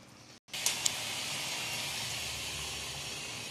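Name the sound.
doi ilish (hilsa fish in yogurt gravy) boiling in pot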